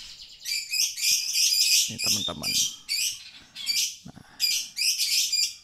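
A white-rumped shama sings loud, varied whistled phrases in repeated bursts close by, with brief talking in the middle.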